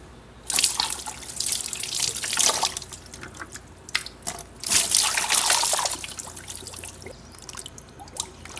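Tap water runs in uneven bursts while a bucket fills with soap for washing a GT4 car, splashing and trickling close by with short pauses between pours.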